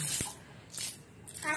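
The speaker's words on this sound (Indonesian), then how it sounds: "Udah dikumpulin sini koinnya." Coins are gathered and dropped in bursts, with sharp metallic clinks and rattles separated by short pauses, close by, with faint voices in the background.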